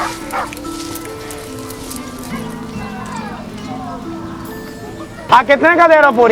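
Several dogs bark and yip loudly in quick overlapping bursts near the end, after a stretch of voices talking over a faint background.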